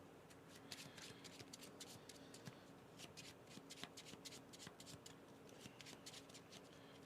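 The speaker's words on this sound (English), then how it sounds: "I gotta shuffle my library first." A deck of Star Realms cards is shuffled, with quick papery riffles and flicks repeating in bursts close by and fairly quiet, without speech.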